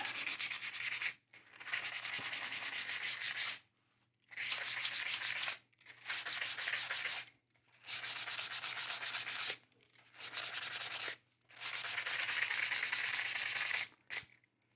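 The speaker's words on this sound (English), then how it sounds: "Very light touch. And sand it." Veg tan leather lightly sanded by hand, with seven or eight sustained, even rasping strokes separated by short pauses, close and clear with no talking.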